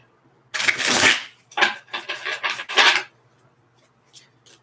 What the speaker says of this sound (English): Let's get these cards all nice and crispy shuffled up for us here.